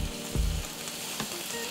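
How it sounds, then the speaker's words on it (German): Satay skewers sizzle and simmer in a hot pan, a steady close frying crackle with a brief louder burst of spitting near the start and a small pop later. "Mein Sauté ist da wunderbar am Köcheln."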